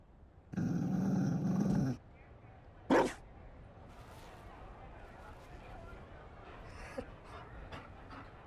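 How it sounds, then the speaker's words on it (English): A Mabari war dog in Dragon Age: Inquisition pants in a loud, steady burst of about a second and a half, followed by a sharp short sound and quieter background noise. "You found a dog. They don't breed Mabari in Olay."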